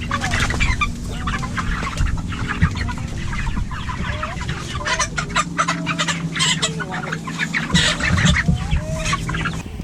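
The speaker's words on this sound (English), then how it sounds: "this is another chicken we have here at week 7" Week-seven broiler chickens cluck and murmur continuously in a coop, many birds close by and fairly loud, with the occasional sharper call over a low background hum.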